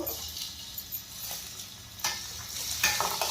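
Chopped tomatoes and fried peanuts sauté in a pan for Maharashtrian rava upma, giving a faint, soft sizzle under gentle spatula scrapes and light clinks.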